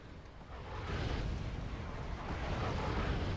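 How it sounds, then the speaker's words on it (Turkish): Deep, rumbling explosion effects from the video game Wargame: Red Dragon swell after a moment into a sustained, roaring blast that keeps booming loudly. "şöyle patlama efektlerini de göstereyim"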